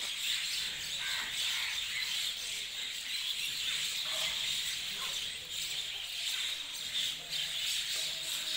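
A dense flock of small birds chirps and twitters nonstop while being fed grain in a village in Kasganj district, India. The bright, busy chorus stays close and fairly loud throughout.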